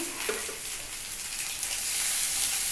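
Onions hit hot oil in a pan and sizzle loudly, a dense bright hiss that swells steadily after a brief spatter at the start, heard alone without speech.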